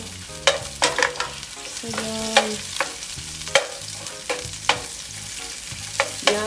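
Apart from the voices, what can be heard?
sautéing beef sausage in a pan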